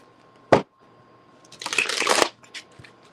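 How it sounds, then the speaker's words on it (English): Tarot cards are handled with a sharp snap and then riffled in a quick, crisp shuffle lasting under a second, close up in a quiet room. "I'm about to shuffle these"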